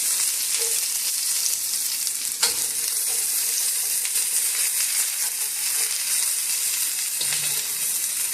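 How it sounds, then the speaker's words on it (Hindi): Onions and vegetables fry in oil for veggie noodles, a continuous close sizzle with occasional soft clinks of stirring. "फिर हम इसमें प्याज डालते हैं और इन सबको अच्छी तरह से हम फ्राई कर लेते हैं।"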